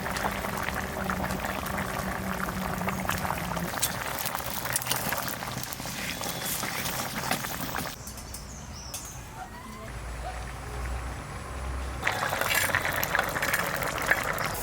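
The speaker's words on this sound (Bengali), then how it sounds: "আলু মূলো ভালো সেদ্ধ হয়ে গেছে" A rohu fish curry with potato and radish boiling in a pot, a continuous bubbling simmer heard close, quieter in the middle before the bubbling rises again, with a faint chicken clucking in the background.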